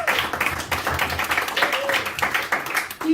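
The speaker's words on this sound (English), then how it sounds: "please give a big round of applause for Alan Hopkins" An audience claps for a comedian Alan Hopkins at a comedy show, a steady patter of hand claps with some cheering voices mixed in, moderately close and continuous.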